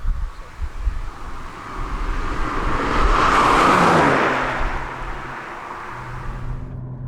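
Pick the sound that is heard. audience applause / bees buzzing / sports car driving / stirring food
sports car driving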